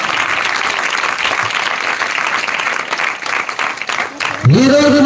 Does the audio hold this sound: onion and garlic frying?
no